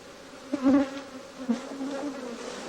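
Honeybees buzz close by as a worked frame bar is lifted out of the hive box, a droning hum with a few louder swells as individual bees pass near, and no voices.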